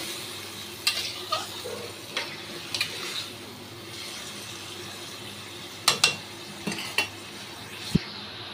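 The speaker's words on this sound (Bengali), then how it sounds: "অল্প একটু উষ্ণ উষ্ণ গরম জল দিলাম, দিয়ে আর 1-2 মিনিট নাড়িয়ে নেব" A spoon works through spice masala loosened with warm water in a pan for a cauliflower and potato curry, giving scattered scrapes and crisp metallic taps over a low, steady bubbling sizzle, close by.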